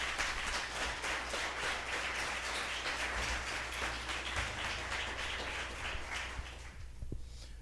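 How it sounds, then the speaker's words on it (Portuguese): A church congregation claps together during a service, a dense, steady patter of many hands that stays loud throughout and thins out near the end, with no talking over it. "Vamos aplaudir a palavra de Deus."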